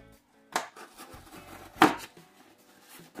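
A Boker automatic knife slices open a cardboard box, giving two sharp cutting bursts, one near the start and a louder one midway, with faint rustling and scraping between them.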